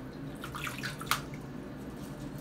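Water drips and trickles softly while a ferret is held soaking in a bath, faint splashes with one sharper drip standing out amid quiet room noise.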